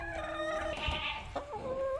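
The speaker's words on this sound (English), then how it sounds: "the next one that we are going to stop and see are the chickens" Backyard farm chickens, a flock of hens with one rooster, cluck and murmur steadily nearby with no talk, one louder squawk standing out partway through.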